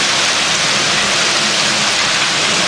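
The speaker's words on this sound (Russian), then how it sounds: "Ты посмотри, какой град, Тань." Dense hail pelts down continuously during a summer storm in Kharkiv's Northern Saltivka district, a loud, even roar of countless strikes with no voices.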